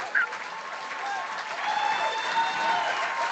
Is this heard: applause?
yes